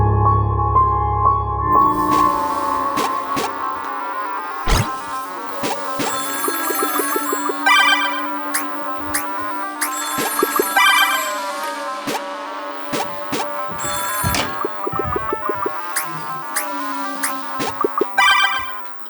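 A landline home telephone rings on and on, a busy electronic ringtone with repeated bright pulses and clicks, loud and close with no voices.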